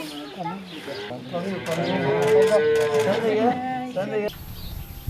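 Holstein cows on a farm giving a long, loud moo that rises and holds, close by, with people talking around it and a brief background hiss at the end.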